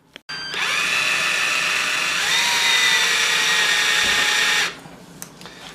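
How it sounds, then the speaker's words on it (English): A power drill whines loudly and steadily for about four seconds, its pitch shifting slightly as it bites into the metal of a Jeep steering box, then spins down and stops. "when you drill these, you want to make sure that your drill is level to the surface"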